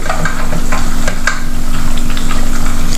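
Kerala-style curry bubbling and sizzling steadily in a pan, with loud, continuous frying close by and scraping stirs breaking through now and then; no voices.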